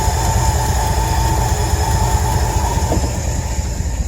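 The engine of a 1973 Ford truck, revived after sitting in a junkyard, running steadily at idle, a close, constant rough rumble and whir with no clear changes and no talking.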